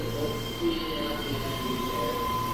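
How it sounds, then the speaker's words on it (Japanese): A Keihan 3000 series electric train pulls out of Kyobashi station with a steady rolling rumble and faint high motor whine, heard at a moderate distance. "3000系の電車が"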